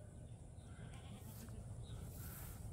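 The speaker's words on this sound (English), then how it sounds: "Water here for the goats." Goats on a farm bleat a couple of times, moderately near, over a steady low outdoor rumble, with no clear speech.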